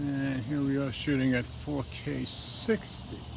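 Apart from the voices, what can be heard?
cicadas chirping in the background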